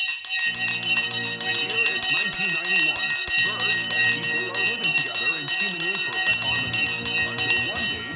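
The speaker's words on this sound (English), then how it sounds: "The bell has gone." A stock market opening bell rings in a sustained, loud metallic tone for the whole stretch, with dense overtones and steady clangs, while a voice talks over it.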